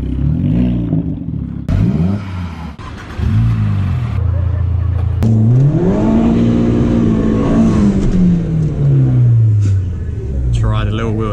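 A VW Golf GTI revs hard with wheel spin, its engine note rising and falling loudly up close, with people talking inside the car over it.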